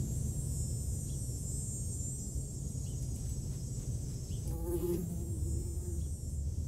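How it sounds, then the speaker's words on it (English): Fly buzzing ominously inside an abandoned train in the Quebec wilderness in the film Fauve, a continuous close insect drone with a faint muffled knock partway through. "A fly buzzes ominously"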